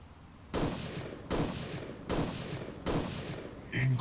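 QuickSilver gun firing in the Guns of Boom shooter game: four loud, heavy single shots evenly spaced with slow pauses between, each trailing off briefly, with no talking.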